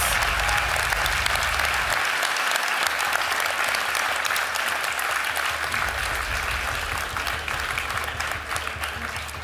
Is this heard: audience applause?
yes